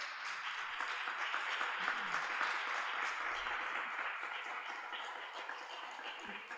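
A streaming crew at the Noche de Fe y Alegría 2021 event receives a faint, steady wash of audience applause, dense and continuous throughout with no voices over it.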